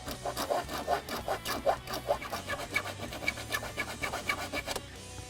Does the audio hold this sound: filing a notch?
yes